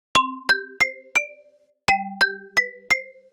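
A synthesized metallic bell rings out in two groups of four struck notes, each chime bright and decaying quickly, clean and alone.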